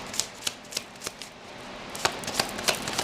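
Tarot cards being shuffled, a string of crisp riffling bursts at a steady pace, close and fairly loud, with a short lull midway and no voices.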